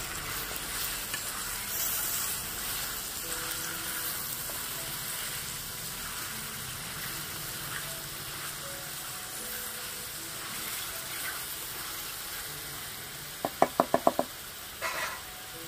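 Chicken pieces frying in oil in a pan give a steady, loud sizzle throughout, ending in a quick burst of spoon clinks and taps against the pan as the chicken is stirred; no one speaks.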